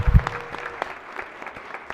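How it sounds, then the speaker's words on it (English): Applause for visiting Moravia Park Elementary schoolchildren in a state Senate chamber during a floor session: a brief, fairly soft patter of clapping with a louder burst at the start, thinning into scattered claps. "if we can give a round of applause to Moravia Park Elementary"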